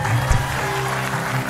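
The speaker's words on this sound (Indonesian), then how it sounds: "Tepuk tangan lagi dong sekali lagi" Studio audience at an Indonesian television talk show breaks into steady applause, a dense wash of clapping filling the short stretch with one louder burst near the start.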